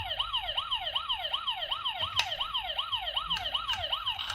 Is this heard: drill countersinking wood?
no